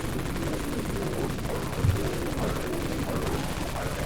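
Rapid, unbroken machine gun and minigun fire in the post-apocalyptic shooter Dead Frontier, in the Deep Wastelands, rattles loud and dense throughout, the rounds blurring into a continuous roar with a heavier thump near the middle.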